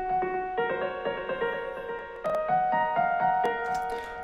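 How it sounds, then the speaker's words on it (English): Unprocessed piano melody from an original song, with steady, clear sustained notes in a moderate rhythm, played alone and close up with no talking. "I'll just be demonstrating this on a piano melody from a song I've been working on for a little while"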